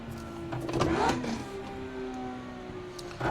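Car engine in a racing sim video game blipped upward during a manual rev-matched downshift, a quick rising rev burst near the start that settles into a steady engine drone, with a short second swell at the end.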